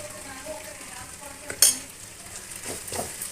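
Salted, chili-spiced fish pieces with masala powder cooking in a pan for a Telugu fish curry, a continuous close sizzle with a sharp utensil clink partway through and a few stirring scrapes.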